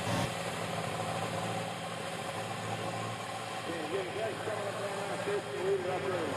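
A pulling tractor idles steadily at a Platte County Fair tractor pull, a constant mid-pitched engine rumble with vibration running throughout, while people talk nearby over it.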